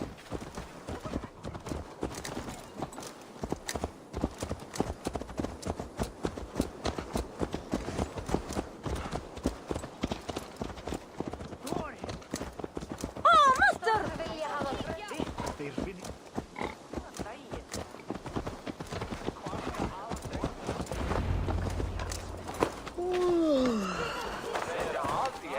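Rapid rhythmic hoofbeats of a horse in Assassin's Creed Valhalla clip-clop continuously with ambient game sounds, a brief animal snort midway and soft background noise.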